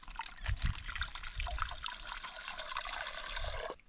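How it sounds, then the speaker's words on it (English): Water trickles and splashes softly as a container is filled from a clear stream in the Northern Territory wilderness, with a few low thumps and a steady liquid rush nearby. "Right, let's collect some water."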